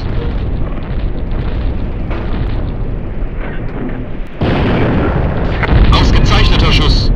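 Tank cannon shots and explosions from the video game Panzer Front, loud heavy booms with a dense rumbling blast that swells and brightens partway through, dominating the clip.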